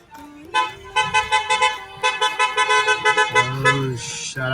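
Repeated car horns honk in short bursts and longer blasts on a crowded New York City street in front of a restaurant, loud and close, with a few voices in the background.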